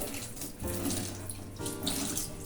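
Water pours steadily from a kitchen tap over tomatoes in a sink, a loud, close, continuous rush that shifts in tone as the flow hits them.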